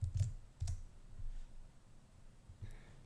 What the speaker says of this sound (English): From here, we're going to type in Klaviyo.